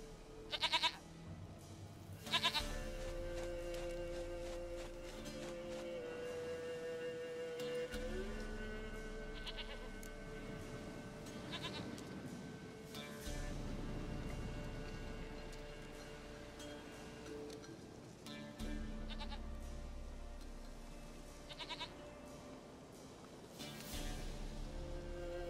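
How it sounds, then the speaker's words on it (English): Goat bleats drift through the Witcher 3 video game's ambient soundscape, several wavering cries spread over a long stretch, mid-distance and fairly soft against a steady background of game music and atmosphere. "Goat of mine, dearest, sweetest goat."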